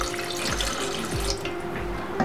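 Water pours into an idli steamer pot, giving a continuous running, splashing gush close by, with a few soft low thumps, while no one speaks.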